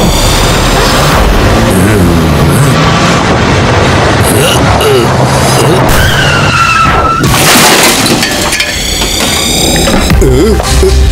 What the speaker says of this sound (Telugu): మాన్స్టర్ ట్రక్ చిప్పీలో మనం ఒక రైడ్ వెళ్దాం పదండి